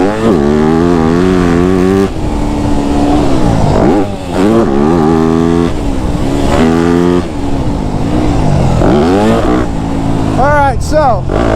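A Yamaha YZ250F dirt bike engine revs hard on a warm-up lap, loud and close, with repeated rising and falling throttle sweeps as it accelerates and shifts, an onboard roar throughout.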